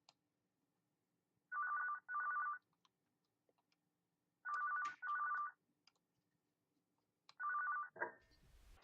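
A telephone ringing in the video game Five Nights at Tubbyland's, in three pairs of electronic rings separated by silence, fairly faint and clean, with a brief click at the end.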